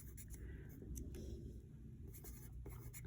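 A pen or pencil writes numbers on paper, a soft close scratching that continues steadily and quietly with no talk.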